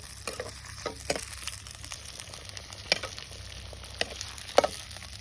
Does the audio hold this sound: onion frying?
yes